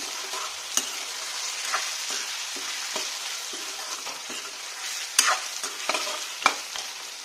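Pork with ginger garlic paste sizzles steadily in a pan while a spoon stirs it, giving scattered scraping knocks and sharp clicks over the continuous frying hiss.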